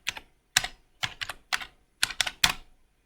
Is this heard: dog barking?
no